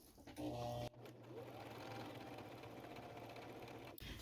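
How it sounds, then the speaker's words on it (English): A sewing machine stitches straight across thin fabric in a steady, even whir that holds for several seconds, close and clear, with a short pause near the start. "I'm going to just sew all the way across this fabric"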